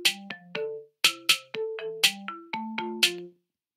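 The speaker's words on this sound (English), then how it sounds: "it gives a marimba, which is like a wooden glockenspiel" Synthesized marimba notes from Chrome Song Maker play a short bright melody of woody, quickly decaying mallet tones, a dozen or so notes in groups, clear and close before falling silent.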